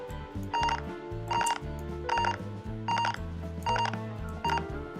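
An incoming call rings through the ProCabby app to alert a driver, a repeating electronic ringtone with six evenly spaced bright bursts over a looping melodic backing, clear and close, with no speech.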